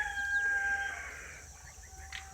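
Chickens cluck and murmur nearby over a low steady hum, with one higher drawn-out call at the start.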